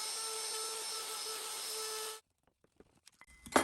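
Router spins at high speed while thicknessing a thin rosewood piece for a guitar truss rod cover, producing a loud, steady whine that cuts off abruptly and leaves a few faint clicks and taps.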